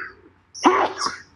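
A single short sneeze bursts out after a brief pause, close and fairly loud.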